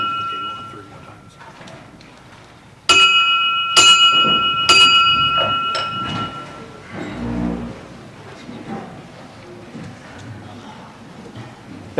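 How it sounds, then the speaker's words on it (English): Several sharp metallic bell strikes ring out loudly in a short cluster at a banquet hall, each with a lingering tone, followed by people talking in the room. "You want to ring the bell since it's your before?"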